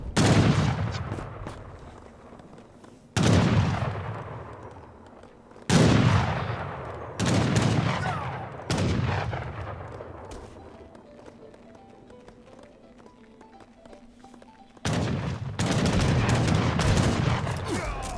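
Cannons firing in a match of Age of Empires III, a series of heavy booming blasts spaced a few seconds apart, each decaying into a long rumble, with in-game battle noise between shots.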